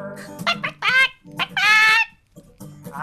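A voice imitates chicken clucking during a children's song about flapping elbows like a farm chicken, giving a string of loud, close, rhythmic clucks and squawks.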